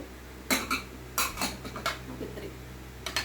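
Stainless steel Milton kitchen vessels, including a small bowl, clink and rattle as they are handled, with a few short metallic knocks spaced across a quiet room and no talk.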